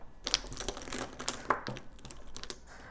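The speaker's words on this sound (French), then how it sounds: "Donc je vais déballer ça tout de suite avec vous." A parcel of 14 Emax Design makeup brushes being unwrapped, with close, busy crinkling of plastic wrap and sharp clicks and rustles in quick irregular bursts.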